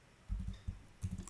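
A few soft keystrokes on a computer keyboard while typing Python code, three small clusters of muted taps over a faint background hiss, with no voices.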